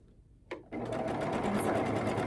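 A sewing machine stitches quilt block fabric, starting after a brief click and then running at a steady, fast, close-up whir to the end.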